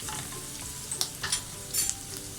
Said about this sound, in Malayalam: അപ്പോൾ നന്നായിട്ട് അങ്ങോട്ട് മിക്സ് ചെയ്ത് കൊടുക്കുക